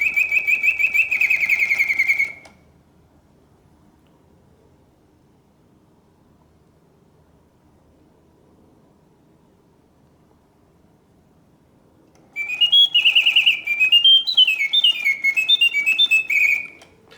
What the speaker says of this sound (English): The birds sing with full voice